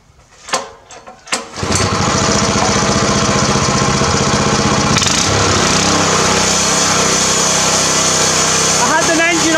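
A small engine powering a homemade power hammer catches after a few sharp starting pulls, then runs loud and steady close by, with a faint voice near the end.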